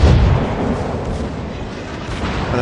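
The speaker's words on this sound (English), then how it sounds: "Main armament away." Main battery guns of the Alsace battleship fire in World of Warships, a heavy, rumbling boom that swells at the start and rolls on as a dense, loud roar across the whole stretch, with no voices.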